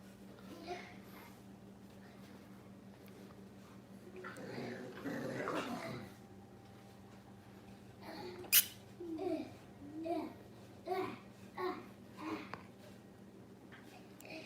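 Puppies in a dog yard yip, whimper and growl in short bursts, with a sharper run of yelps toward the end, while someone talks over them nearby.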